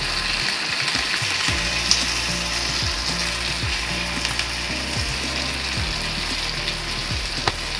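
Red chilli powder and MTR bisi bele bath mix fry in hot oil with a steady, close hiss, broken by repeated scraping strokes of a spoon stirring the pan.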